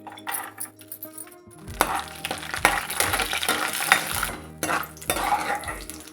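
Dry coconut pieces frying in ghee in a pan for semiya payasam, a sizzling crackle broken by several sharp metallic clinks and scrapes of a spoon against the pan.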